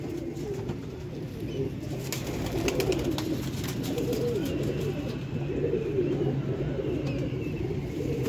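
Bater pigeons in a loft give repeated low, rolling coos that overlap through the stretch, close and moderately loud against a steady background rustle.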